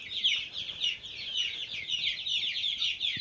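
A chorus of young Australorp chicks in a new cage peeping and chirping continuously, close by, high-pitched overlapping calls with no talking.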